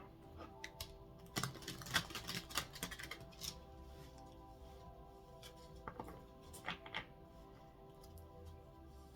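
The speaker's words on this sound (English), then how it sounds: "Last shuffle." A deck of oracle cards is shuffled by hand, giving soft clustered riffles and taps that come in short bursts, quiet and close, with a pause in the middle and no talking.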